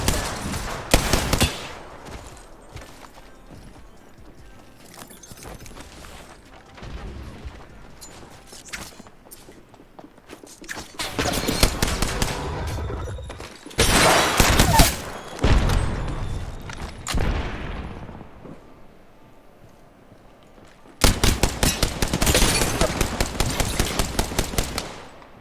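Machine-gun fire in the battle royale game Apex Legends comes in long, loud, rapid bursts separated by quieter gaps, with a final sustained burst near the end.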